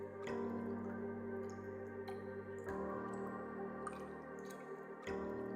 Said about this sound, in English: What are those drips?